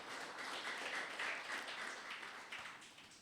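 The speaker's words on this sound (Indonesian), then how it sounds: "boleh tepuk tangan untuk Tuhan Yesus" A church congregation applauding during a general worship service at GBI Graha Oikos, heard as a faint, dense wash of many clapping hands that swells slightly and fades, with no talking on top.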